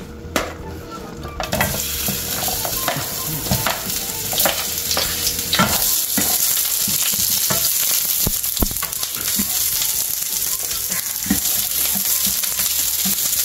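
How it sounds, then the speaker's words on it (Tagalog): Garlic and onion sizzle steadily in a hot pan for pata tim, with frequent clinks and scrapes of a spatule stirring throughout. "Ang sibuyas po ay ginigisa niya."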